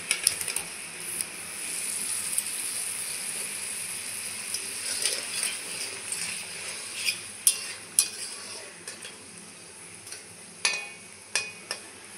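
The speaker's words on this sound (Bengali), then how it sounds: "দেখুন, এখন এইভাবে নাড়াচাড়া করতে থাকবো।" Raw papaya pieces are stirred in sugar syrup in a pot, with repeated spoon scrapes and sharp clinks over a soft, continuous simmer.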